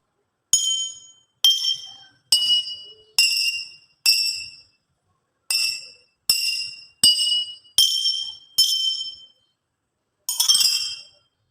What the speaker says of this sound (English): we are going to take a metal spoon and tap on each of the glass